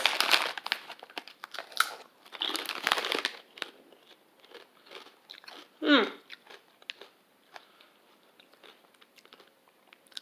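Bag of Ashmore cheese and onion crisps crinkled loudly at the start, followed by quieter crunching and chewing, with a short sharp crackle midway and faint background murmurs.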